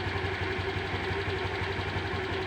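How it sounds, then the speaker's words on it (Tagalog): A motorcycle engine idles steadily and evenly, its scooter-type CVT and air filter freshly cleaned, running close and alone with a low, constant rumble throughout. "goods yung andar ng makina"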